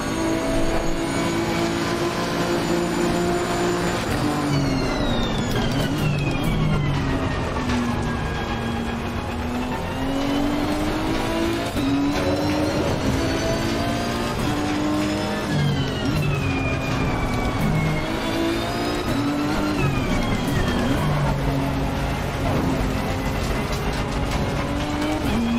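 A race car engine in the Threads Racing video game screams through repeated rising revs and quick upshifts, loud and continuous, with pitch climbing and dropping at each gear change.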